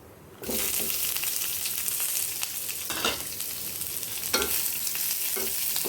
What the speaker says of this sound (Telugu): ఉల్లిపాయ కూడా వేసి వేయించేద్దాం